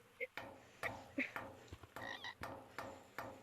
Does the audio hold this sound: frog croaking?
yes